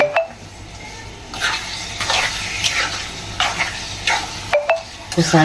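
Goat blood fry being stirred in a pan, a spoon scraping and turning the pieces in repeated strokes over a soft steady sizzle.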